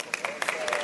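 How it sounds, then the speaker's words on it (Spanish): Scattered clapping from an audience at a church sermon, a brief ragged burst of hand claps with voices mixed in underneath. "Un aplauso."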